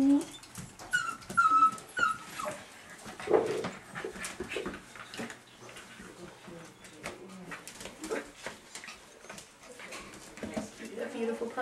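Puppies whimper, whine and pant close by in a steady busy stream, with a person talking softly to them throughout.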